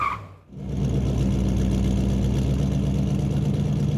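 A toy pirate ship's motor starts after a brief pause, then hums steadily at a constant pitch, close and continuous with no talking.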